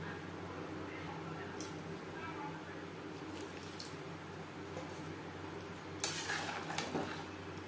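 Potatoes and eggplant are stirred into gravy in a pan for a hilsa fish curry; faint scattered clinks and scrapes of a utensil against metal, ending with a louder, busier scraping burst.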